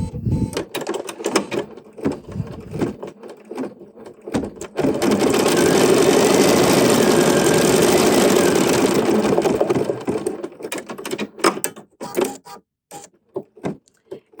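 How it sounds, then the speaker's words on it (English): An embroidery machine stitches a finishing stitch around the raw edge of a red chenille heart, giving a steady, loud mechanical hum that runs for about five seconds, framed by brief clicks and handling noises before and after. "now we're going to stitch a little finishing stitch around the raw edge of the heart"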